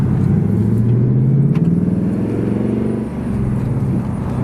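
Ford Mustang S650 exhaust giving off a low, steady rumble, loud and close, with a slight rising pitch sweep early and an even drone afterward.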